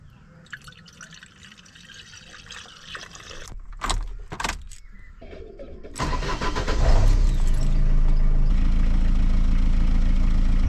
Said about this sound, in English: While I'm letting the van warm up